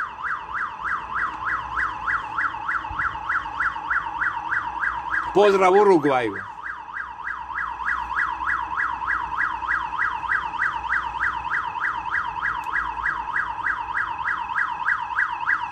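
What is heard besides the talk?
building alarm sounding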